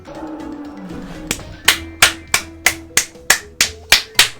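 Hands clap in a quick steady rhythm, about ten sharp claps close by, after a few seconds of faint low murmur.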